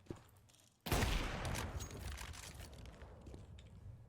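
Counter-Strike 2 gunfire, a sudden heavy blast after a quiet moment, then a sustained rumbling roar of shots and echoes fading slowly, faint and distant in the mix.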